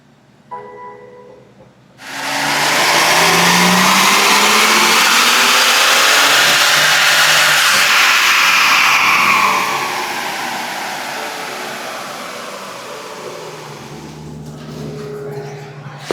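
A BMW M760i V12 with a new exhaust roars loudly on a dyno, revving up hard and holding a sustained full-throttle wail before easing back to a quieter lingering drone.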